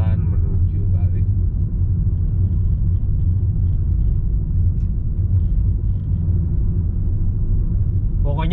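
A Honda Jazz GK5, Australian version, drives along a residential street, a steady low road rumble and engine drone heard from inside the cabin, with brief voices at the start and end.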